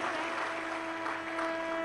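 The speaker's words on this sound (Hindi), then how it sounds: "एक बार सभी यजमान परिवार के लिए जोरदार ताली बजाकर स्वागत, वंदन, अभिनंदन।" A crowd at a Shiv Mahapuran katha, a Hindu religious gathering, applauds the host families with steady, dense clapping throughout, over a constant tonal hum in the background.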